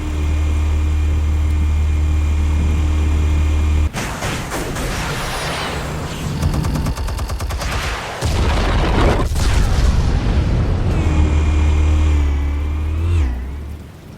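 In the video game Batman: The Telltale Series, loud, close explosions burst after a low engine-like rumble, with crashing debris, a pause, and more blasts and roaring before a fading tail.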